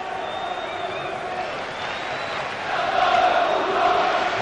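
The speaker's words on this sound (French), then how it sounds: "Et le public s'applaudit" A large football stadium crowd late in a 1995–96 UEFA Cup match between Lazio and Lyon in Rome, a steady broad roar of applause and crowd noise that swells louder in the second half of the clip.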